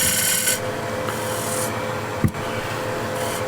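A shear scraper cuts wood on a lathe, giving a steady rasping scrape that runs through the whole stretch, with brief gaps in the hiss and one sharp knock partway through.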